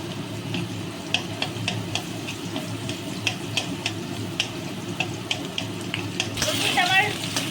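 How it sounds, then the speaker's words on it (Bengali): Garlic sizzling in hot oil in a pan beside potatoes, as chili potatoes are cooked; a steady low crackle with scattered pops, swelling louder near the end. "রসুন একটু ভাজা হোক"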